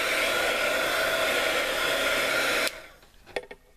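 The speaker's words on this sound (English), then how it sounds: "So let that dry with our heat gun." A heat gun drying paint on a mixed media art tag blows a loud, steady close-up whoosh that cuts off abruptly after nearly three seconds, followed by faint handling clicks and taps.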